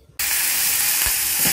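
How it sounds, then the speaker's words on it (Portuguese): Sausage hits a hot pan in a home kitchen, bursting into a loud, steady sizzle after a brief quiet start, with faint knocks of stirring partway through. "Tô fritando aqui linguiça, que eu vou botar um molho aqui."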